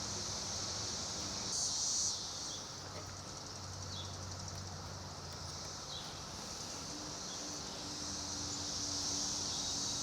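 Cicadas drone outdoors in a high, steady, faint buzz that lasts the whole stretch, with soft rustling beneath and no talk.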